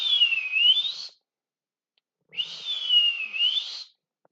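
A person whistles alone, close and clear, in a home bar while making a Ward 8 cocktail. Two sustained whistled calls dip and rise in pitch, with a pause between them.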